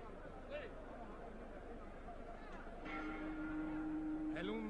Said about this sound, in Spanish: El undécimo asalto se ha iniciado con ese campanazo.